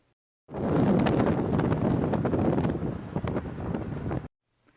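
Wind rushes steadily and loudly against the microphone for a few seconds, a broad roaring gust that starts and stops abruptly, with no voices.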